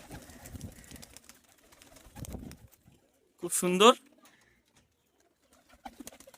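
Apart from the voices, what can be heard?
pigeons cooing in a loft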